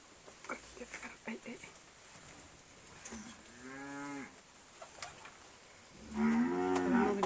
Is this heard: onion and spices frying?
no